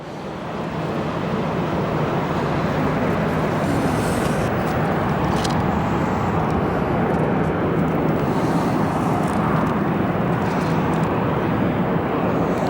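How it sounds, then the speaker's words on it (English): A 1978 Learjet 35 arrives at Phoenix Sky Harbor, a steady broad jet roar that holds loud and constant throughout, with no talk over it. "Super cool arrival right now. Learjet 35, oldie but a goodie."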